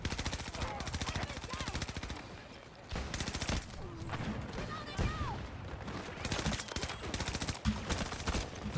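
Dense machine-gun fire in a Battlefield 2042 gunfight on the Stadium map crackles in rapid continuous bursts throughout, loud and close, with a short lull before the shooting resumes.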